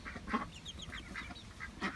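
Ducks on a mini farm give a few faint, scattered quacks over soft background noise, with one louder call near the start and another near the end.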